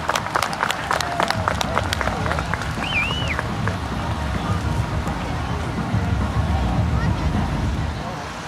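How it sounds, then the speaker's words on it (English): At an air show with an Army parachute team, crowd applause and cheering mix with a loud announcer's voice over outdoor background noise, holding steady throughout. "Ladies and gentlemen, give them a round of applause."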